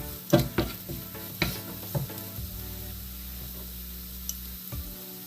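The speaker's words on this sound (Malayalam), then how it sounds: "നമ്മുടെ സവോളയൊക്കെ നന്നായിട്ടൊന്ന് വഴണ്ട് വന്നിട്ടുണ്ട്" Sliced onions are sautéing in a pan for a Kerala-style side dish, with a soft sizzle beneath a few close clanks and scrapes of a spoon against the pan early on, then a quieter simmer and a low steady hum.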